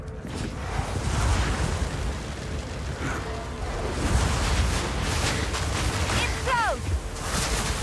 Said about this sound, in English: let's see how that ice explosion